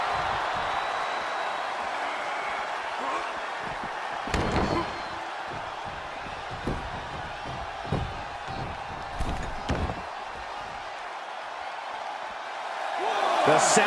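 Wrestling arena crowd at a tag team tournament roaring loudly and steadily, with sharp slams and thuds from the ring breaking through the dense cheering, swelling louder at the end.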